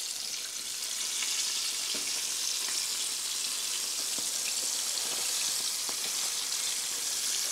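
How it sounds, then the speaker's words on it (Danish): A whole plaice fries in a pan with a steady, dense sizzle, and a few faint scrapes from a spatula turning the fish rise above it. The sizzle is close and constant throughout, with no voices. "Jeg tager nu, ved hjælp af en palet, og vender min fisk."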